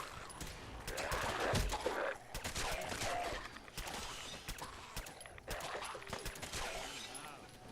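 An automatic laser rifle in Fallout 4 Far Harbor fires in scattered short bursts of sharp zaps and mechanical clicks, fairly quiet and spaced a second or so apart.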